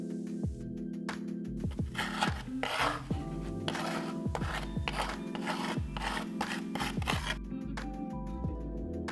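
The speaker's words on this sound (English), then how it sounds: "Now I can go in with some needle files and start refining the details." Needle files rasping over the surface of a dinosaur skull sculpt, a steady run of close, repeated rubbing and scraping strokes over a low background hum, with no talking.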